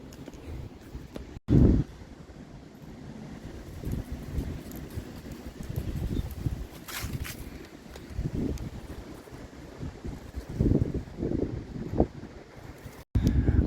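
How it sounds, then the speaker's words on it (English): Strong wind of over 30 mph buffets the microphone in gusts, a continuous rough roar rising and falling with a few sharp thumps. "We got 30+ mile-an-hour wind."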